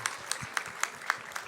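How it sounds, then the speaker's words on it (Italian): An audience at an Italian conference gives a councillor a short round of applause, quiet clapping heard at a distance with a few sharper claps standing out. "Un applauso all'assessore anche."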